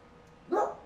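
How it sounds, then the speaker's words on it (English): A dog in The Sims 4 gives a single short, fairly loud bark, rising out of quiet near the end of the moment. "They want to bark."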